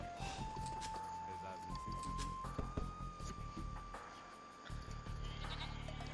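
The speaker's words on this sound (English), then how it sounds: "Let's get the goats." Goats bleating in the Age of Empires II video game: a few short animal bleats sit among game effects and a sustained musical tone, while a player talks over them.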